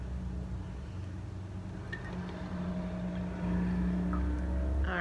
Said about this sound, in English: my window is open and there's a car going by